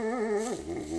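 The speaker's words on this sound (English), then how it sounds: "It's a huffy bark." A wolf at a wolf sanctuary giving a short, huffy bark-whine, a tonal, close vocalization that breaks off midway and resumes more softly.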